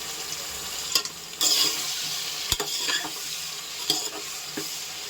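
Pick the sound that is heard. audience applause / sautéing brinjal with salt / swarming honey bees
sautéing brinjal with salt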